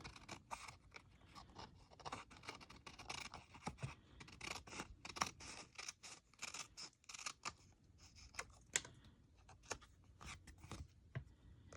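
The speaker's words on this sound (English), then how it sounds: "we're just going to snip these edges off" Scissors snipping the edges off a card, a rapid series of crisp close cuts and small paper scrapes in irregular rhythm, quiet and alone with no talking.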